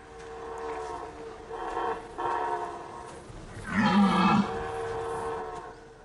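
During the rut, red deer stags give rough, drawn-out roars in a forest, with a stronger, closer bellow near the end over a steady background hum.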